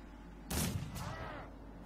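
A single gunshot cracks out in the video game Mordheim, a sharp burst with a quick second report and a fading tail over a steady low background hum.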